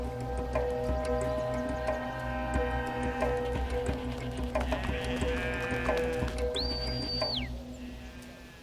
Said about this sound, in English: The goat herder moves his flock on.